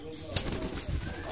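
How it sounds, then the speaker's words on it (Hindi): Agitated grey parrots inside a cage give loud, harsh calls over a noisy, busy background, one sharp cry standing out near the start and others following close by. "लो जी हम पिंजरे के अंदर आ गए हैं, तोते हो गए हैं परेशान।"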